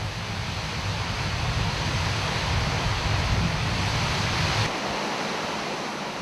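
Artificial waterfall pouring about 8.5 tons of water a minute, a loud steady roaring rush of falling water with no voices, the low rumble dropping away near the end while the hiss continues.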